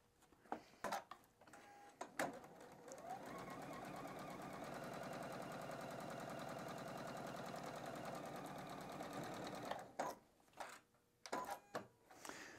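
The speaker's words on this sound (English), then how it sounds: "We're gonna sew across this straight line." Sewing machine stitching a straight seam across quilt fabric squares, a steady whirring hum lasting about seven seconds, with light clicks and handling noises before and after.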